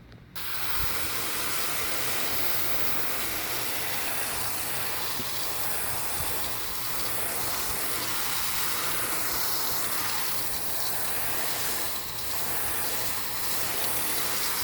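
Water spray rinsing car floor mats, a loud continuous hissing blast of water striking fabric mats that holds steady for the whole stretch with small fluctuations, close by and alone.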